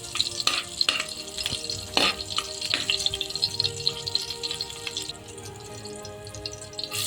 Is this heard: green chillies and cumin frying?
yes